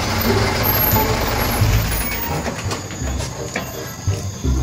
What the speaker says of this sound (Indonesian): Mobilnya datang nih.